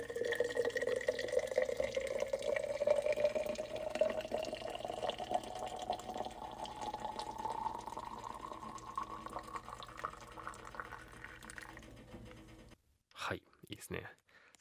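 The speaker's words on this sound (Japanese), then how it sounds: "ポットか注ぐ音かな。" Hot water pours from a pot into a vessel, a steady gurgling stream whose pitch climbs gradually as the container fills, fairly quiet, and stops before a couple of short soft sounds at the end.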